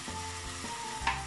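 Onions and minced meat sizzle steadily in a hot pan, with faint stirring scrapes and a brief louder hiss near the end.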